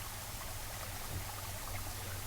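Waterfall pouring into a pool in the SpaceVenture video game, a steady, soft, even rush of falling water with no other sounds.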